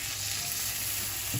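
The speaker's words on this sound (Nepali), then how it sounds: "यसरी मसला भुटिएपछि अब म यसमा टमाटर राख्दैछु" Finely chopped tomatoes hit hot frying spices for a mustard fish curry, giving a constant close sizzle and crackle with a light stirring scrape near the end.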